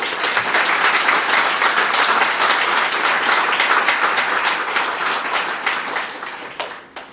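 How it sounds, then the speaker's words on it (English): A conference crowd applauds a poster award winner with a round of applause: dense, sustained clapping from many hands throughout, steady and loud, tapering off at the very end. "Can you stand up and we'll do a round of applause?"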